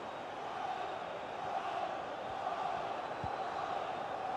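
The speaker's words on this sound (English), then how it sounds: "The crowd are certainly playing their part." Football stadium crowd during a Premier League-style match, a steady distant roar of many voices and chanting that stays constant throughout, with no distinct peaks.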